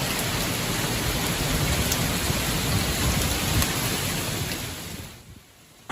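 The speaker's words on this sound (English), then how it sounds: "Torrential rain and powerful winds descended even the capital of Tuesday evening" Torrential rain in Rome during a severe evening thunderstorm with powerful winds, a dense steady downpour hissing loudly, fading out toward the end with a brief thump.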